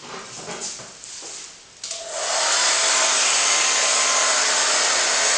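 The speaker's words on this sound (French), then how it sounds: "Si les mélanges me conviennent, je bloque au sèche-cheveux." A hair dryer switches on and blows with a loud, steady whooshing roar after a few faint handling noises.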